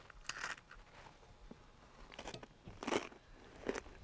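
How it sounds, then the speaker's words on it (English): Crunchy bites of a cookies-and-cream dessert, several crisp crackling crunches at an irregular chewing pace, close and fairly quiet with no talking. "Ooh, the crunch."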